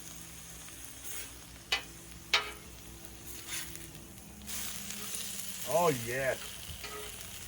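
Alligator meat sizzles steadily on a Blackstone griddle after being flipped, a continuous frying hiss with a few sharp clinks of a spatula, and a voice speaks briefly over it.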